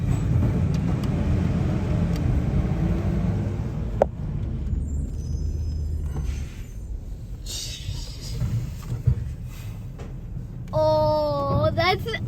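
A CWD rear-loader garbage truck drives through a Wylie street with a loud engine rumble. A sharp clack and a brief hiss cut in, and a rising mechanical whine comes near the end, with faint voices nearby.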